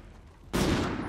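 A single sniper rifle shot in a video game cracks out loud and close after a quiet lull, with a sustained roar and reverberant tail filling the rest of the moment.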